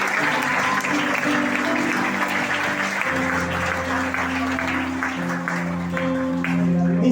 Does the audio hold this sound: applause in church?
yes